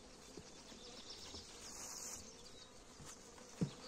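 Honeybees buzz around frames in an open hive in early April, a faint, steady hum of many insects close by with a brief soft knock near the end.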